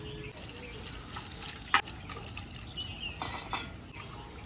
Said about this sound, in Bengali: ধুয়ে রাখি চিংড়িগুলো